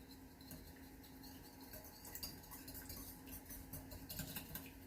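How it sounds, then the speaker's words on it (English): A whisk beats a lemon Dijon and oil dressing in a bowl, producing faint, quick, rhythmic metallic ticks and patters that run steadily throughout. "now we're going to go ahead and give it a whisk"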